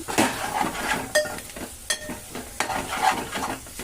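Spoon stirring cumin powder and coriander into a sizzling dish in a pan, with repeated scraping strokes and clinks against the metal over a soft steady fry.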